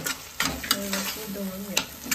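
Soy sauce added to a hot pan sets off a close, crackling sizzle of frying, with a few sharper stirring scrapes breaking through at intervals over the steady hiss.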